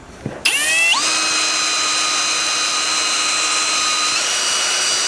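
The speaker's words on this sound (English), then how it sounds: "by the time you're back, I should be done drilling this hole." A power drill bores a hole for an air conditioner installation, with a steady, sustained motor whine that begins after a brief knock and holds evenly to the end.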